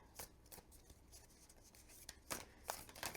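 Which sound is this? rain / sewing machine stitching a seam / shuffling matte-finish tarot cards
shuffling matte-finish tarot cards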